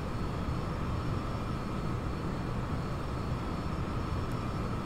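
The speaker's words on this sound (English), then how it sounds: "Just let me know if the audio is a little weird because the airplane is a bit loud." An airplane engine in the X-Plane 11 flight simulator holding climb thrust, a steady, even broadband roar with a faint tonal hum, continuous at moderate level with no talk.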